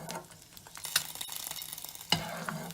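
A sunny-side-up egg frying in a pan, with a soft steady sizzle and a few brighter crackles, heard close and alone.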